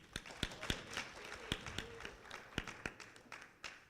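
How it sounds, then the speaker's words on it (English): A conference audience at a Tax Justice Network Africa live stream gives a round of applause, faint and scattered, with distinct claps spread out over a few seconds. "I think one more round of applause."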